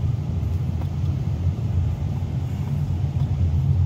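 A car drives along a village road, its engine and tyres producing a steady low rumble that stays close and constant throughout.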